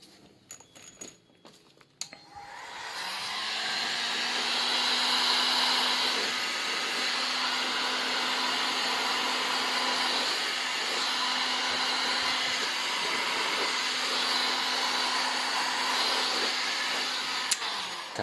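A heat gun heats size 20 heat-shrink tubing over an N-type male connector on low-loss coaxial cable: a few handling clicks, then a steady, close blower whoosh with a faint tonal hum that runs unbroken to the end.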